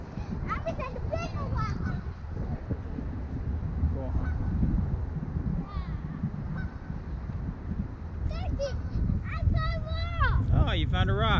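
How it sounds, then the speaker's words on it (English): Geese honk repeatedly beside the Wolf River in Memphis, Tennessee, bursts of nasal calls from a flock at close to middle distance, heard at the start and more densely near the end, with children and adults talking throughout. "Look at the geese, guys."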